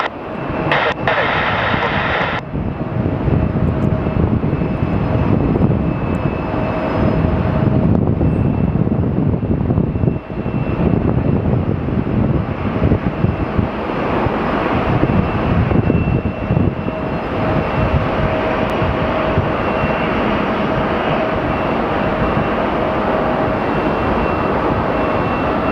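An airplane roars steadily at Sky Harbor Airport during plane spotting, a loud continuous engine rumble that lasts the whole stretch, with voices and radio-like chatter intermittently over it.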